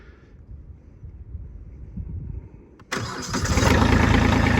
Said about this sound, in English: So let's see if the tractor starts.